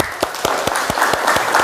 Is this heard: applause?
yes